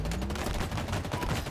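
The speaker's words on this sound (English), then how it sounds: "I didn't know this is an automatic weapon." Rapid automatic weapon fire from Halo Infinite multiplayer, a dense continuous burst of gunshots running loud and close through the whole moment with no clear pauses.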